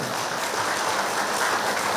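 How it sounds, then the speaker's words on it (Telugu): An audience claps steadily and fairly loudly at a public gathering in Nizamabad, a dense continuous patter of many hands with no gaps and no voices. "ఒక పరి భారతదేశానికి గట్టిగా చప్పట్లు కొడదాం."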